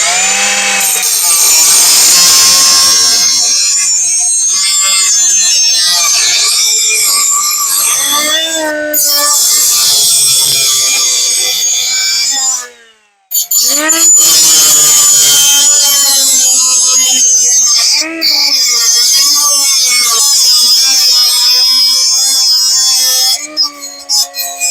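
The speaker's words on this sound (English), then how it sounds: "I'm gonna slice on both sides of it, and then it will be an open hole for the O2 bung to go through" A power tool cuts both sides of a drilled hole for an O2 bung on a lowered Honda Civic EF, loud and continuous with shifting pitch, briefly stopping midway and then resuming.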